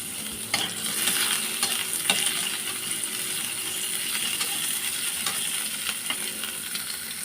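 Sliced onion (sibuyas) fries in a pan for a simple shrimp and fresh vegetable dish, giving a steady, close, continuous sizzle with occasional light scrapes and clinks of a utensil stirring, and no voices.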